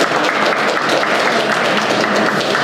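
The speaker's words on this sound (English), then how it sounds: "Please, big round of applause." Loud, sustained applause from the audience at a city hall grant check presentation in Lawrence, Massachusetts, a close, even wash of many hands clapping without voices.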